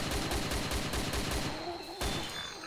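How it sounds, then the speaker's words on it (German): A rapid string of nearby gunshots in the Arma 2 game DayZ Mod fires in an even automatic rhythm, breaks off, then one more shot cracks out before the clip ends. "Dicker, hier sind richtig nah Schüsse"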